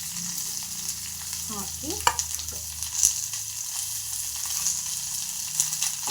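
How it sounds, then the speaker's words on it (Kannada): Mustard seeds, curry leaves and onion fry in hot oil as tempering for tomato sambar, a steady close sizzle with crackles and a couple of stirring clinks, while a voice briefly speaks a word early on. "ಸ್ವಲ್ಪ ಎಣ್ಣೆಯಲ್ಲಿ ಫ್ರೈ ಮಾಡಬೇಕು."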